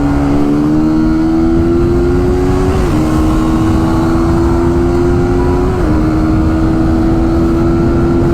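A Suzuki GSX-R motorcycle is ridden at high speed, its engine a loud, close, sustained whine. The pitch climbs steadily and dips twice briefly, as at gear changes, with strong wind rush and no speech.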